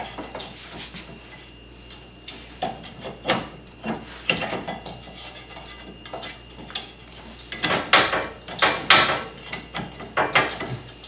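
A new rear axle for a Wildcat Sport being worked into the wheel hub, close metallic clanks, scrapes and knocks in irregular bursts, growing louder and busier toward the end.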